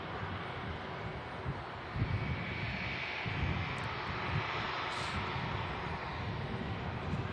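A Hainan airliner's engines at Manchester Airport, before taxiing out, give a steady broad roar held at a constant loud level, with faint wind over it.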